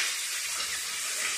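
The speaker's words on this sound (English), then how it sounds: "Frying the chicken in the aluminum pan." Chicken frying in grease inside an aluminum pan gives a steady, close sizzling hiss with no talking.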